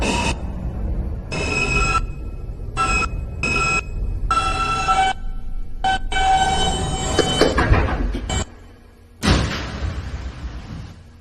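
An N subway train bound for Astoria-Ditmars Boulevard rumbles along on a New York line, with loud rolling rail noise, squealing wheels and ringing tones in bursts, close and continuous before a short lull and renewed rumble.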